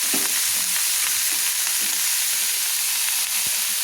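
Shredded cabbage frying in a pan with spices for a vegetarian cabbage ghonto, a loud steady hiss of sizzling with occasional scrapes of stirring.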